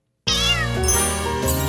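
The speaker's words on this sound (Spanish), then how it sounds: "Wendy, aquí está tu gatita." A cartoon kitten gives one long, loud, wavering meow that starts after a brief silence and carries on alone for about a second and a half.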